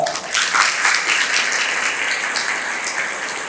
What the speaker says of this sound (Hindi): आप सबकी तालियां चाहूँगा